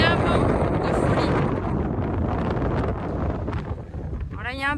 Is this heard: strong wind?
yes